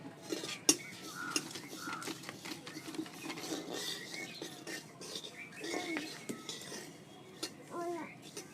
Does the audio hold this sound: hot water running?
no